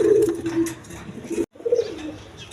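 Boot-footed pigeons for sale at a bird market coo in close, repeated throaty bursts, a brief silence in the middle before the cooing resumes.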